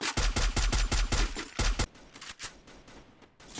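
Rapid automatic gunfire from the mobile battle-royale game Free Fire, dense bursts of loud shots for nearly two seconds, then scattered quieter pops and distant reports.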